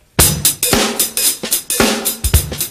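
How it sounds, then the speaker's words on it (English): A drum kit plays a contemporary groove with a varied hi-hat pattern: strong kick and snare hits recur in a steady rhythm, bright cymbal wash between them, close and loud with no talking. "And you can mess with the hi-hat."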